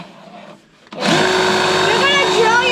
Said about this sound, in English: And I'm gonna drill it kind of on the high side.